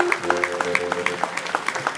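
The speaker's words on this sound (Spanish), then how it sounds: "el aplauso para ella" Audience applause for a singer joining a family folk music group on stage, steady clapping with distinct sharp hand claps standing out over a sustained musical hum in the background.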